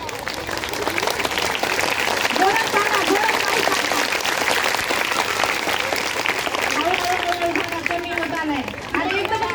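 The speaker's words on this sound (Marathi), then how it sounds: "वाढवा टाळ्या वाढवा वाढवा वाढवा वाढवा" Schoolchildren at a village primary school clap together in sustained, dense applause that stays loud throughout, while an adult voice urges them on over the clapping.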